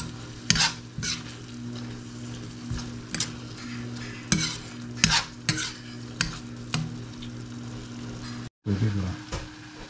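Fish being sautéed with tomato paste in a pan, a loud continuous sizzle broken by repeated scraping stirs of a utensil against the pan, close up, with a brief cut near the end.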